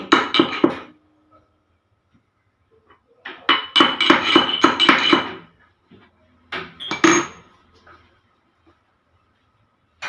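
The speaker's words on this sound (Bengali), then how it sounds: "আমি ততক্ষণে দুটো এলাচ দানা একটু গুঁড়ো করে নিচ্ছি" Two cardamom pods are crushed in a home kitchen with a series of sharp pounding knocks in three bursts, close and crisp, separated by quiet pauses.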